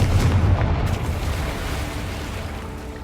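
A Confringo spell explosion in Hogwarts Legacy, a heavy booming blast with a low rumbling tail that slowly fades, loud and close with no talk.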